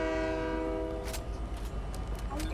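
A video game train horn sounds as a sustained harmonic blast that fades off after about a second, with rumbling rail noise and bursts of other game sounds underneath.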